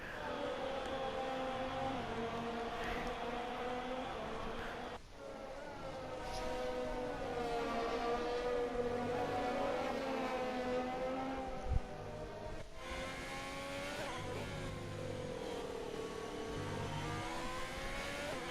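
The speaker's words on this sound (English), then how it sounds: "As out of the pits goes Charles Leclerc, and that is Max Verstappen overtaking Leclerc." Formula 1 cars racing on a wet track in the F1 2020 video game, whining, rising and falling engine tones that shift gears several times, steady and moderately loud with no talking.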